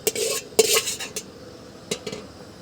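Brinjal being sautéed in a pan during outdoor cooking, with a few sharp metallic spatula scrapes and clinks against the pan, then quiet between strokes.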